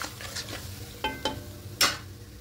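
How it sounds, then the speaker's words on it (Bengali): Vegetarian okra curry stirred in a pan: a handful of distinct scraping strokes over a low, steady sizzle, close and moderately loud, with no voices. "খুব ভালো করে মিশিয়ে নেব।"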